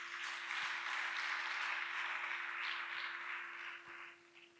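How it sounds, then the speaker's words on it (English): Audience applause at a ceremony launching young women into the digital economy, a broad steady wash of many hands clapping at moderate distance that fades toward the end, with a faint constant hum underneath. "Please applaud yourselves."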